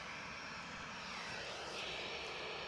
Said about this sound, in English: So we've got Ryanair taxiing out.